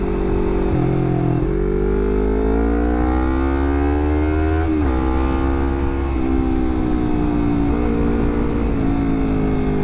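A Honda CBR250RR fitted with a WRX GP3 K2 exhaust revs, its engine tone climbing and falling across several rises with a smooth, steady roar, close and loud throughout, alone without speech.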